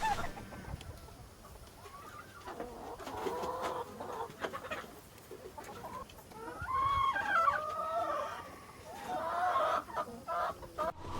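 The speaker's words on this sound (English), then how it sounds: "there's some pretty cool looking chickens here" Chickens cluck and a rooster calls in a lively coop, with bursts of squawking growing louder toward the end.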